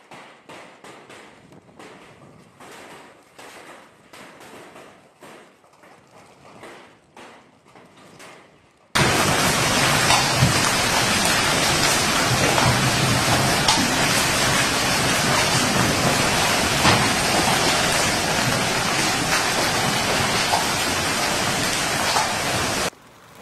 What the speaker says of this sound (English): Heavy rain caused widespread flooding in Ibiza and Formentera